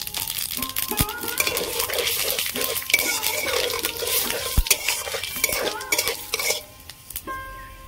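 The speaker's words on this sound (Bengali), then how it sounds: "ওই তেলের মধ্যে আমি তেজপাতা দেবো, শুকনো লঙ্কা দেবো, 5 ফোড়ন দেবো" Bay leaf, dried red chilli and five-spice go into hot oil left from frying fish heads, crackling and sizzling. Frequent metal spoon clanks and stirring scrapes against the pan sit up close, with no talk.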